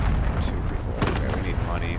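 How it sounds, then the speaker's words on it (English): Cluster strike explosions in the Call of Duty Warzone video game, a steady barrage of loud booming blasts that rolls on for the whole moment, with game chatter faintly in the mix. "Allied cluster strike arriving."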